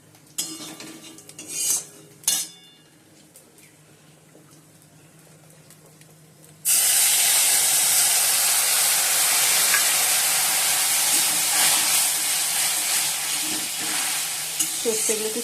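Prawns tossed into a simmering curry in a pan: a few quiet clinks and knocks of utensils, then an abrupt loud, dense sizzle that roars on steadily with occasional scrapes and clatter.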